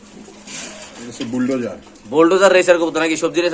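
Caged pigeons at a pigeon market coo in soft, repeated calls close by, partly under loud talk from people bargaining.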